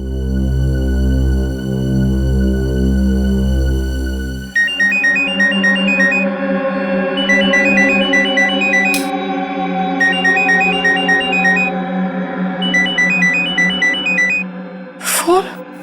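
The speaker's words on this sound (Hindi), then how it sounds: "उसका फोन है। उसी का फोन है।" A melodic electronic phone ringtone plays repeated short patterns of beeping notes, loud and close, after a stretch of sustained music, with a brief swoop near the end.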